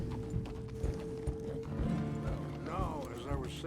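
Horse hooves clip-clop steadily on a ride in Red Dead Redemption 2, close and moderately loud, with a brief whinny near the end and soft voices speaking over the hoofbeats.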